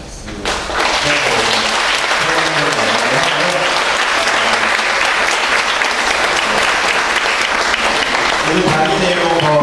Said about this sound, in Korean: 박노자 교수님께 큰 박수